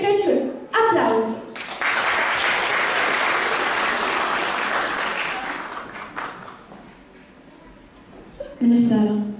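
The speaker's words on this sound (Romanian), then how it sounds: "Aplauze!" Loud audience applause fills a Christmas recital hall for several seconds, rising sharply after a brief spoken introduction and fading before a voice returns at the end.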